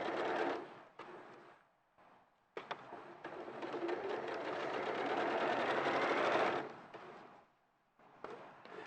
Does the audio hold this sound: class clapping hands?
no